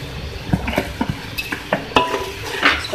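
Rice and chicken cubes being stirred in a pot for chana pulao, with a spoon scraping and clinking against the metal in quick, irregular strokes over a faint sizzle, close and fairly loud without speech.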